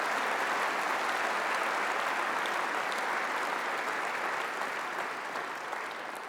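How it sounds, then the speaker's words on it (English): Sustained applause from a large audience at the Conservative Party Conference, a dense, steady wash of clapping that stays loud throughout and eases slightly near the end. "So please give them a big round of applause."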